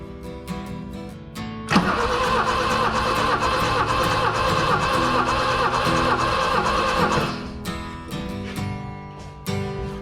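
A BMW E21 engine cranks over for a compression test, a loud rhythmic starter churn running steadily for about six seconds between quieter clicks and handling noises.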